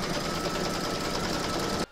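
A fast, even mechanical buzz comes from an embroidery machine stitching fabric over batting in the hoop. It is loud and close and cuts off suddenly at the end.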